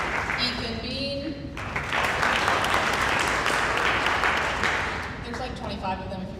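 Broad, steady clapping from an audience at a high school senior award ceremony, rising and filling the room, with someone speaking over the applause at the beginning and again as it fades.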